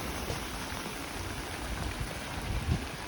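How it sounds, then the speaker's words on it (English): Rain falling on surfaces during a walk in Howard Beach, Queens, New York, a dense, even hiss close by with scattered heavier drops. "It's a symphony of rain."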